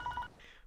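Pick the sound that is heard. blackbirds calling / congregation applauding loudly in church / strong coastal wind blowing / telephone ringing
telephone ringing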